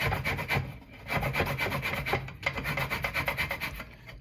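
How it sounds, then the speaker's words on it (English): Two large oranges are zested on a grater, producing a quiet, steady rasping scrape in repeated strokes with short pauses, recorded close up without any speech. "We're gonna zest 2 large oranges into our mixture."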